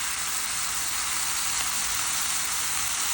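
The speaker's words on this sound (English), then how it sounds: "add the chickpeas to the pot" Cooked chickpeas tumble into a pot of sizzling sautéed vegetables for a chickpea and kale curry, setting off a steady, loud frying hiss that holds evenly throughout with no talking.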